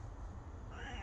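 An eleven-year-old cat lets out a soft, brief chattering meow, faint and close, over a quiet indoor background.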